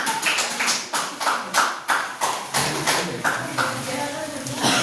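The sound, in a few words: class clapping hands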